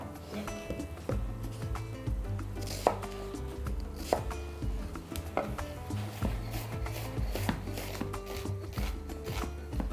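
A knife chops a whole onion finely on a board in steady, rapid knocks, close and clear, with a few louder strikes and no talking.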